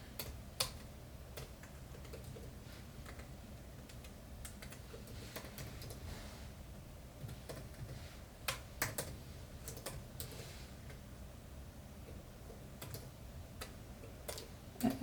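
Typing on a computer keyboard: faint, irregular clusters of sharp key clicks with short pauses between bursts, close by in a quiet room with no talking.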